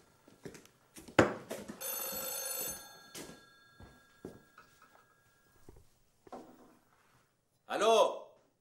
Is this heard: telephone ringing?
yes